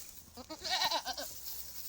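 A goat gives a single short, wavering bleat up close, rising and falling over about half a second against a quiet background, with no talk.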